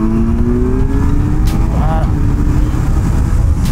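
A Kawasaki Z900 (2025) motorcycle engine rises in pitch as it accelerates through low gears, loud and close with heavy wind rumble; a voice says a word briefly.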